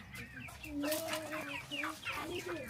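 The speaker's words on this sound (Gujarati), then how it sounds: "હવે આ બીજો નવો કુકડો છે" A rooster clucks repeatedly up close, short throaty calls coming in quick succession, with other birds faintly in the background.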